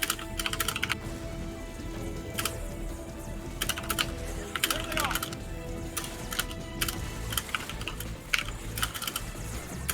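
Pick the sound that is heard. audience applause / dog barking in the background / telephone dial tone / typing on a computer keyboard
typing on a computer keyboard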